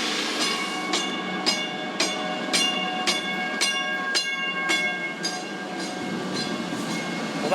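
A train runs along tracks in Northwest Indiana, loud and close, with a steady rhythmic clickety-clack of wheels over rail joints roughly every half second and no voices.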